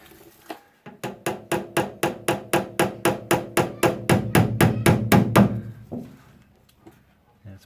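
A hammer taps down high spots on the rusty metal door of a Gemini coupe, about sixteen sharp, evenly spaced metallic knocks that come slightly faster and louder toward the end, close up, then stop.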